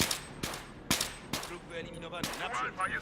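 Rifle shots from the Battlefield 3 video game, several sharp cracks spaced out over a few seconds, with game noise and faint voices between them.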